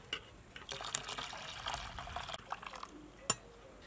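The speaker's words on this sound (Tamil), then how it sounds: "இப்போ காய்ச்சி வச்சுருக்கிற பாலை சேர்த்துக்கலாம்" Boiled milk poured into a dissolved sugar and salt mixture for semiya idiyappam, a short splashing, gurgling pour close by with a few clinks of utensils.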